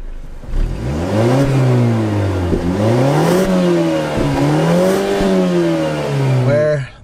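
A 2019 Mazda 6 with a turbocharged engine accelerates hard, its loud engine note climbing steadily through gears with brief dips at shifts, close and continuous throughout.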